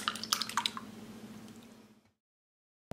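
Mashed potato dough for cheese potato patties being worked together with a beaten egg, giving close, wet squishing and dripping sounds for about two seconds before everything goes silent.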